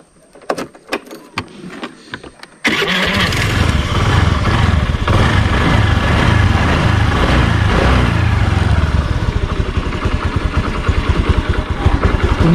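A Honda Dio scooter engine, with fresh oil added, cranks with a few short clicks, then catches and settles into a loud, steady, buzzing two-stroke idle close by.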